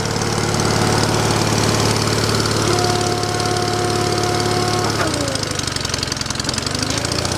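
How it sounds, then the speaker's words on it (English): An engine-powered wood splitter runs with a steady, rapid mechanical chug and drone, then its tone dips and sweeps around the five-second mark as the load changes, staying loud and close throughout. "this is the fastest wood splitter"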